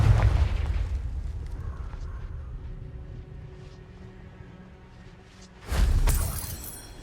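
Confringo spell from Hogwarts Legacy: a fading blast rumble at the start, then a sharp, loud crackling explosion bursting near the end after a quieter stretch.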